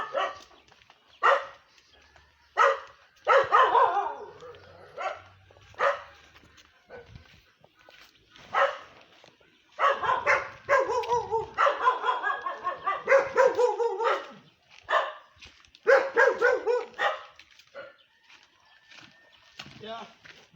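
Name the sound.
dogs barking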